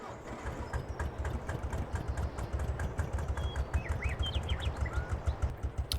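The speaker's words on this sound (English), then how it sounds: "So we start the engine up." Tractor engine in Farming Simulator 22 running at a steady idle, a continuous low rumble with regular pulsing throughout, fairly loud and alone with faint chirps above.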